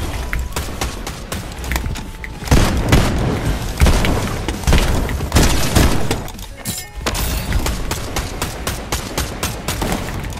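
Gunshots ring out in a ranked video game match, sharp loud cracks in irregular bursts and rapid clusters, some near and punchy, with booming impacts scattered over about ten seconds.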